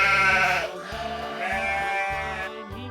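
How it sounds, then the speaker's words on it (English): A sheep bleats loudly and close by in several quavering, drawn-out calls that run one into the next, with short breaks between them and no voices. "sheep"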